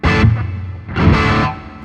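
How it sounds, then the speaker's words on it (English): An electric guitar played through a Boss Waza Craft tube amp with hall reverb rings out in two sustained, loud, distorted chords, each swelling and decaying into a lingering reverberant tail. "How about reverb, not plate, I'm going to go with Hall"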